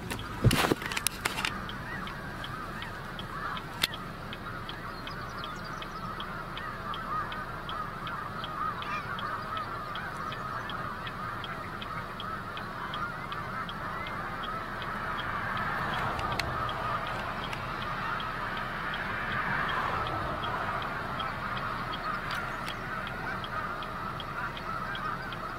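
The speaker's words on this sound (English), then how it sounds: "Snow geese!" A flock of snow geese honks continuously from a distance, a dense layered chorus of calls that swells and fades over a steady outdoor background, with a few louder bumps near the start.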